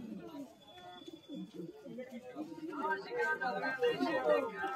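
Malwai and Rampuri pigeons at a pet market coo in soft, rolling throaty notes that grow louder and denser toward the end, mixed with background chatter and talk.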